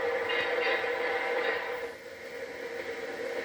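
A Pennsylvania Railroad passenger train with head-end cars rumbles past with a steady broadband roar that eases slightly midway, continuous and fairly close.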